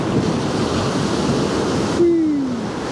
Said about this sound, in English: Let's get some nice waves now.